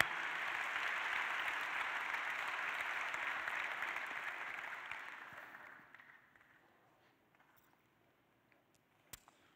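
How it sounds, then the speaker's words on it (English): Audience applause at a talk about young people, a steady broadband clapping that holds for about five seconds, then thins and fades out to near silence with a couple of stray claps at the end. "Let's give them a big round of applause."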